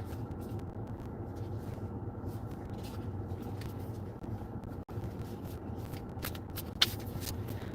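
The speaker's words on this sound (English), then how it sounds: "Oops. Dropping the cards." Playing cards are scooped and shuffled back together after a drop, a soft continuous riffling and sliding close by with a few small taps, no voices.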